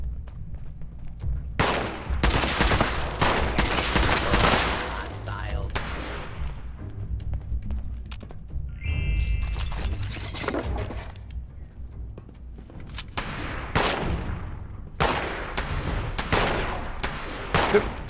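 Bursts of gunfire in Fallout 76, several loud volleys spread over the stretch with quieter gaps and background game noise between them, voices faintly mixed in.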